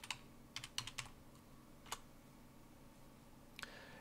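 Typing on a computer keyboard while entering Betaflight CLI commands: a few quick clustered keystrokes, then isolated clicks, close and fairly quiet over a soft steady background hum.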